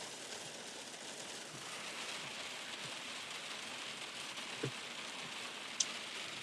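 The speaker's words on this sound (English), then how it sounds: "Damn, it's like fucking Florida rain downpour." Steady heavy rain downpour hissing broadly and evenly, with a couple of faint thumps and one brief high click standing out against the constant wash.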